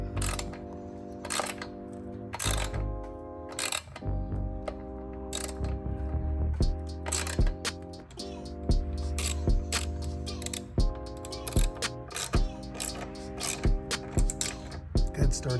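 A hand ratchet tightens strut tower brace bolts on a Dodge Charger, giving repeated quick clicking bursts close to the microphone with brief pauses between strokes.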